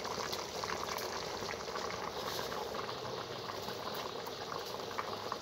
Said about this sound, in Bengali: বন্ধুরা কিছুটা দেখুন ফুটছে